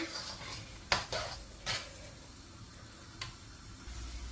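Coconut milk mixture for dodol being stirred in a pan, with a few sharp scrapes and clinks of the utensil against the metal over a faint, steady background hiss.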